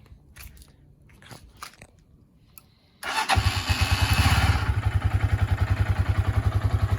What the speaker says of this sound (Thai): โอเคเดี๋ยวลองไปสตาร์ทเครื่องกันเลย